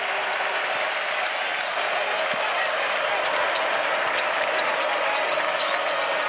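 Crowd at a college basketball game between Carolina and Radford keeps up a steady, dense wash of applause and murmur, with a few sharper claps and cheers breaking through near the end.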